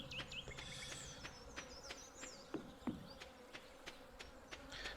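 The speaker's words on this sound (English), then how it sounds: "there's like buzzing, fly sounds buzzing around when you kind of walk around in the summer and the music stops" Flies buzz during summer in Stardew Valley, faint intermittent droning passes weaving in and out against quiet ambient game sound, with no music.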